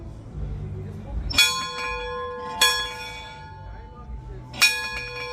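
A hand-rung metal bell in St. Augustine struck three times up close, each loud clang ringing out with a long, bright, sustained tone before the next strike, with faint talk in the background.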